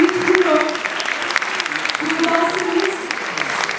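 Audience applause at a Turkish folk music concert, a dense, steady wash of clapping from a crowd lasting several seconds, with a few voices and faint tones mixed in.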